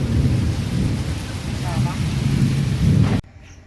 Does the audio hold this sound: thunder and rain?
yes